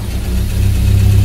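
An old car's engine runs with the choke pulled and the clutch held in after two days sitting unused, giving a steady, close, loud low rumble that settles into an even idle.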